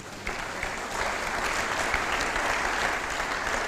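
A church congregation applauds during a sermon, a steady, dense clapping from many hands in a large room, holding even throughout without talk.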